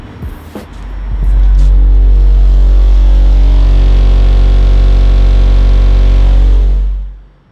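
Very loud, deep bass tone from a car subwoofer in a Toyota Corolla swells up past 150 decibels, holds steady for several seconds, then cuts off abruptly.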